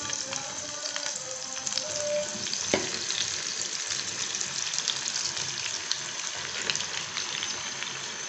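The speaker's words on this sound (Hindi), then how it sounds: "अब इसके अंदर हम डालेंगे भिंडी, जिसको कि हमने मसाला लगाया हुआ है, इसको हम डालेंगे और इसको हम फ्राई करेंगे।" Masala-coated okra (bhindi) sizzling in hot oil for bhindi keema, a continuous close crackling hiss with a brief clunk near the start, steady throughout with no talking.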